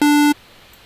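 A single short synthesizer square-wave tone sounds loud and steady for about a third of a second, then cuts off abruptly into near silence.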